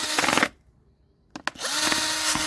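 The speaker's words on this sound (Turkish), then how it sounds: "Ben bu şekilde şimdi her tarafına deliyorum" Holes are pierced in a plastic jug while preparing a container for growing mint, giving a loud, harsh, buzzing noise that stops for about a second, then returns after two sharp clicks.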